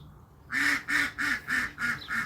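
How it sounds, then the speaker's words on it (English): Ducks quack outdoors in a run of six evenly spaced, nasal calls, moderately near and clear over quiet background. "That's our ducks over there saying hello."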